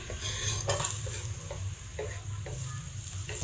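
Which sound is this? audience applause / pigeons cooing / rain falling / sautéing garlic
sautéing garlic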